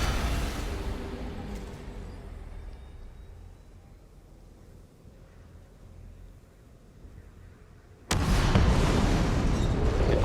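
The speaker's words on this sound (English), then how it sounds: "The explosion is so massive." Huge explosion in the video game DOOM: The Dark Ages, bursting in suddenly and loud at about eight seconds after a low, rumbling stretch of game ambience, then holding as a dense roaring blast to the end.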